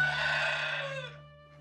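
Chickens on a long-kept farm give a close, sustained burst of bird calls that tapers off after about a second, with a steady low hum underneath.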